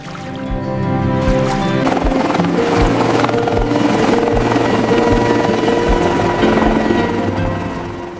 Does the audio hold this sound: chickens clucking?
no